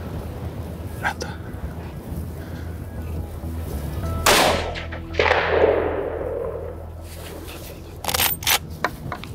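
A single rifle shot rings out while hunting wood pigeons on a windy day: a sudden loud broadband crack followed by a long rolling echo that fades over a couple of seconds, set against steady wind noise and soft whispered talk.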